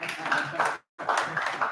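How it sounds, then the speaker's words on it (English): An audience at a national dialogue on sustainable coexistence of species in Uganda claps in dense bursts, broken by one short silent gap, with voices mixed into the applause. "You can clap for yourselves."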